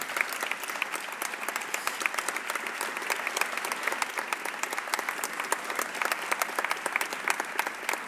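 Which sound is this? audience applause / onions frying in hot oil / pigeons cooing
audience applause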